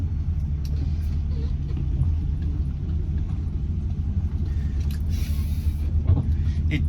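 A 1973 Ford Maverick, still suffering faults, drives along with a steady low engine and road rumble running continuously and fairly loud, with no talk over it.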